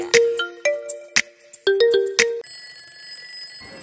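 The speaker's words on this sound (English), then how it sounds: "Alarm bunyi tanda dimulai." Short electronic alarm tones ring out loudly in a quick melodic sequence, then give way to a sustained high, steady tone marking the start of a scary game in a children's cartoon.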